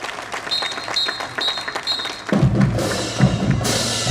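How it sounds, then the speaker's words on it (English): Parade crowd clapping for the Conneaut Area Senior High School Marching Band at the 2017 Waterfowl Parade, with scattered applause joined by a sudden louder, fuller outdoor roar partway through and repeated high tones early on. "Have a nice round of applause for the Conneaut Area Senior High School Marching Band"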